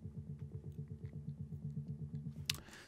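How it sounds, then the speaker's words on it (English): A pulsing Diva synth bass line in a melodic techno track chugs in a steady, driving rhythm of repeated low notes, with a brief bright burst near the end. "And then we have this driving bass sound."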